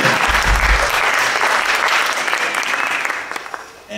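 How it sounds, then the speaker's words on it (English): Audience applause at a university band concert, a dense, loud wash of clapping that holds steady and then fades toward the end. "one more round of applause for the arranger of the last tune"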